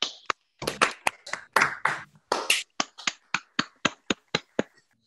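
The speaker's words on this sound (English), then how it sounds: "give everyone a round of applause," Online panel participants clap and snap over their unmuted microphones after a discussion on Covid-19 and inequality, a choppy run of close, separate claps, loud and sharp, with brief gaps and a final string of evenly spaced single claps.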